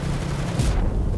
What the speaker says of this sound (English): your tank had betrayed you and is firing on you